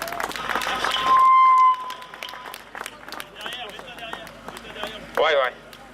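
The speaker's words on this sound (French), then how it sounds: "On l'applaudit." A crowd at a CGT union rally of railway workers in Nevers applauds a regional leader, with dense clapping and cheering mixed with voices and a brief whistle-like tone, fading into talk.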